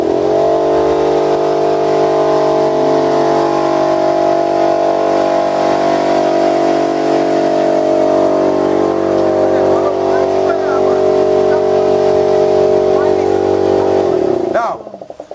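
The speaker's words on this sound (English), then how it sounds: "For the little guns, we use compressor." Air compressor running to feed nail guns in a goat skin drum workshop, a loud steady motor drone with a sustained hum for about fourteen seconds, ending with a brief clatter as it stops.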